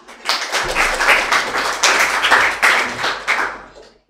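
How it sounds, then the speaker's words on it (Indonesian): A group of people clapping hands in a classroom, a burst of close, moderately loud applause with quick uneven claps that swells and then tapers off over a few seconds. "Ya, tepuk tangan."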